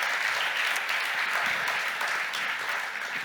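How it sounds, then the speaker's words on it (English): An audience at a business panel session in Australia gives a full round of applause, many hands clapping steadily and close for about three seconds, tapering slightly at the end. "Can we please give Julie Bishop a big round of applause, Julie?"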